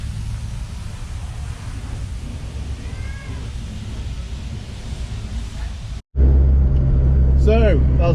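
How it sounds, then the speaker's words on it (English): Several cars and motors pass by at a garage during a VAG Nation car event day in Velden, a steady broad road rumble that swells loudly near the end, with faint chatter underneath. "Loads of motors going past, pretty chilled."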